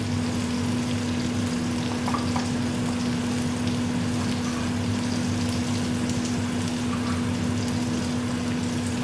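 Food fries in a pan with a steady, continuous sizzle and crackle alongside a constant low hum, close and moderately loud, with no talking.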